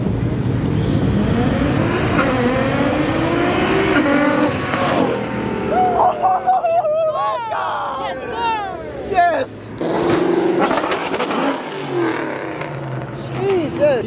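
Nissan GT-R revving hard and doing burnouts amid a loud Mustang Week car meet crowd, engine roar rising and falling over several seconds with tire noise, and people shouting and talking throughout.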